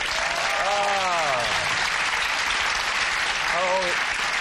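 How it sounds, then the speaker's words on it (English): A television studio audience applauds in a dense, continuous roar of clapping, while people talk over it briefly. "You guys will applaud anything."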